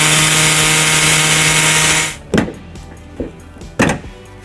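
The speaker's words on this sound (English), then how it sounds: "we're gonna use an air saw" An air saw cuts through the plastic rear bumper fascia of a 2012 Jeep Compass, a loud, steady buzzing whine that stops abruptly after two seconds, followed by a few sharp knocks and clunks.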